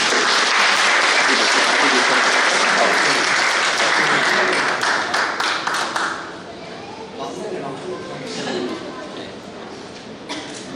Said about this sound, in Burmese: ကျွန်တော်အားလုံးလက်ခုပ်တီးပေးပါ